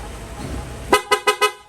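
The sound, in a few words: motorcycle aftermarket horn honking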